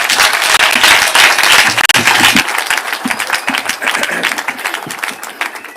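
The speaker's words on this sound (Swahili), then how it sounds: "Tungetaka kwa heshima tumpigie makofi tumkaribishe rais wetu." A crowd at a burial service in Nyandarua applauds to welcome President Ruto, dense sustained clapping that stays loud and close, then thins slightly toward the end.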